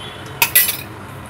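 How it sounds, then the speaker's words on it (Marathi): Eggs crack against the rim of a bowl in a home kitchen, two sharp, close taps in quick succession followed by a brief clatter, then quiet. "अंडी फोडून घेऊया।"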